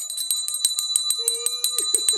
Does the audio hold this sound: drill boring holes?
no